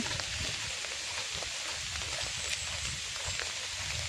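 Rain falls steadily outdoors during a walk to work, a constant close hiss of water on surfaces with occasional sharper drip ticks, unbroken and without speech.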